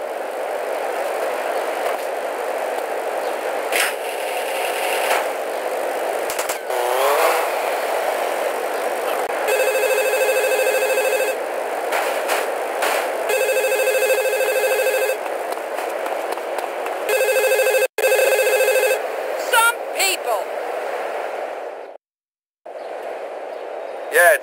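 A public payphone outside a courthouse rings in GTA: Liberty City Stories, loud repeated electronic trills in regular bursts over steady engine and street hum from the game.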